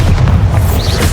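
Bombarda explosion spell from Hogwarts Legacy lands as a single loud, deep boom with a rumbling low-end tail, close and dense for about a second.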